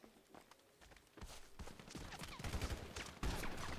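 Gunfire in GTA V, a rapid burst of close, sharp shots and crackling impacts that grows louder and denser toward the end, with no talking over it.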